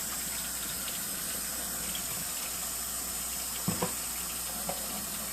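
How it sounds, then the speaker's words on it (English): Hands are washed under a running kitchen tap, a steady hiss of flowing water with a couple of small clunks near the end, close and continuous, with no talking. "I'm gonna wash my hands real quick."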